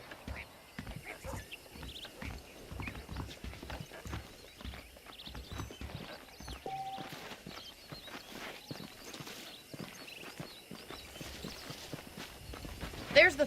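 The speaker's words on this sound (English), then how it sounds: "The horses are saddled up over here." Horse hooves in Red Dead Redemption clip-clop at a steady walking pace, fairly quiet, with a voice speaking over them at times.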